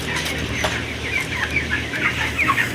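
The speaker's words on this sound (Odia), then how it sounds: "କୁକୁଡ଼ା ବାହାରକୁ ପଳେଇ ଯାଇପାରିବେ।" Chickens cluck steadily inside a poultry farm in Odisha, a dense flock of overlapping calls with a constant background hum and no talking.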